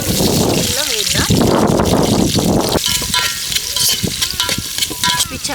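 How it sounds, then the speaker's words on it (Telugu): Sliced onions for chicken biryani hissing loudly as they fry in a pan, with stirring scrapes and an overlapping speaking voice. "ఇవి చక్కగా వేగేంత వరకు ఉంచుకుందాం"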